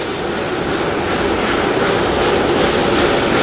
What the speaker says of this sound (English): The 4 core stage RS-25 engines gimbaling around, testing the ability to steer the rocket into space.